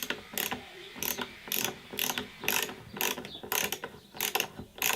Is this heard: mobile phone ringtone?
no